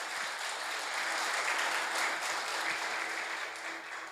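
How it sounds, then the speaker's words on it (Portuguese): A church congregation applauding, a dense, sustained wash of many hands clapping at once, loud and even for several seconds before easing slightly at the end. "Você pode aplaudir o Senhor bem forte"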